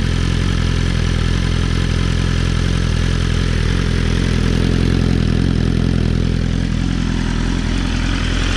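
A motorcycle fitted with a Jeskap exhaust idles steadily up close, a loud continuous low engine rumble with a constant throb and no voices over it.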